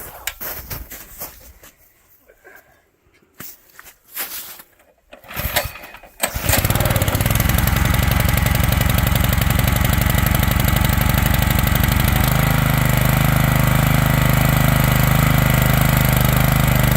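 A small engine needing choke is cranked with several short, irregular pull attempts, then catches and settles into a loud, continuous running drone. The engine note shifts slightly partway through and holds steady to the end.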